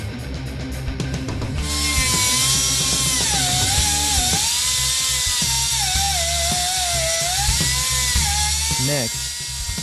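A power tool cuts steel from a truck frame to clear room for a RideTech front Shockwave air suspension, droning loudly and steadily with a wavering high whine, close up, for most of the clip.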